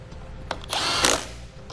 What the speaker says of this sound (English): Now we'll just connect the nut here with a 13 millimeter socket.